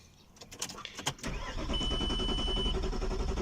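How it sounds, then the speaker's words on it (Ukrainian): A VAG 2.5 TDI turbodiesel, hot and hard to start, cranks briefly with a few choppy bursts, then catches and runs at a steady, loud idle close by. "Тупо заводиться, буває, глохне. Заводиться, глохне."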